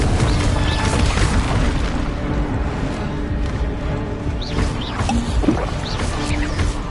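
Confringo spell explosions in Hogwarts Legacy boom and crash repeatedly over a dense, noisy battle din, with several sharp blasts and whooshing bursts cutting through the continuous rumble.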